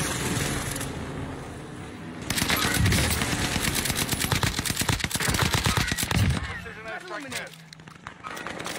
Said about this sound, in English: I want the airstrike here